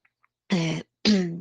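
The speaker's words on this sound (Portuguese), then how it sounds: "estou com uma tosse infinita aqui" Two short, harsh coughs close to the listener, separated by a brief pause, with quiet around them.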